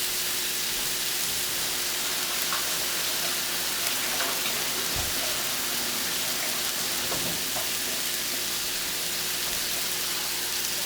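Meatballs frying in a pan give off a steady, even sizzle and crackle throughout, close and moderately loud, with a few soft clicks and bumps underneath and no talking.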